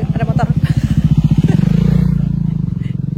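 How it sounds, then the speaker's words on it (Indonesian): A motorcycle passes close on an Athens street in the early evening, its engine throbbing rapidly and then settling into a steady pulse amid the surrounding traffic. "Mampus ada mobil, ada motor."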